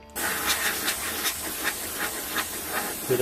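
Sheet metal is heated by an oxyMagneGas welding torch during spot welding, with a steady close torch hiss and scattered faint pops and ticks from the metal throughout.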